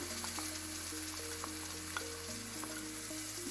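Fresh tomato puree for chicken tikka masala frying in a hot pan, a steady close sizzle with light stirring scrapes running unbroken throughout, no voices.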